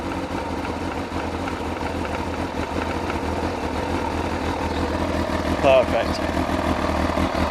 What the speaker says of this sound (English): start the bike up to get the oil moving around